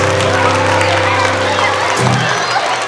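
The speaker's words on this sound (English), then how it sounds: "give yourselves a round of applause" Audience at a family music show at Funny Farm in Henderson, Nevada, applauds and cheers, a dense, steady wash of clapping and voices lasting throughout with a steady hum underneath.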